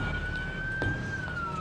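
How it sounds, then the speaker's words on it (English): Ambulance siren wailing in a single long rising-and-falling tone over a steady road and traffic rumble, moderately loud and fairly close, without speech. "Dr. Holland and Janine race with her by ambulance to the ER"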